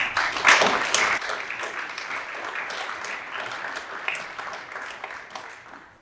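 Audience applause fills a school venue on a university band's winter tour, a dense wash of clapping that swells early, then holds steady and slowly fades, with faint voices mixed in.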